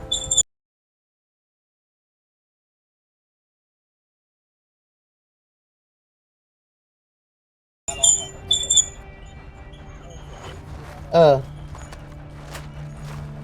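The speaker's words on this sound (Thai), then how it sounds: "เสียงม้าเหรอเสียงม้าร้องเหรอ" In a video game, a horse whinnies and hooves clip-clop in a burst after a long stretch of silence, with game sounds and a faint voice mixed in.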